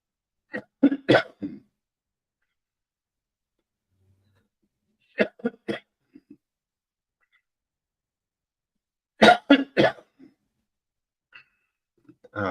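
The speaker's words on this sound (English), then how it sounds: "Excuse me for the cough." Three separate bursts of coughing from a person with a cold, spaced several seconds apart, each a quick cluster of two or three close, sharp coughs amid silence.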